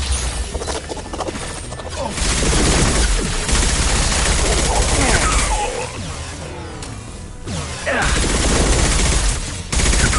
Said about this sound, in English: Firing an impact shot! Taking heavy fire!